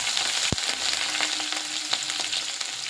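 Grated ginger, green chillies and finely chopped onions fry in a pan for a hotel-style Bombay aloo bhaji, a dense, continuous sizzle with a sharp clink from a utensil early on.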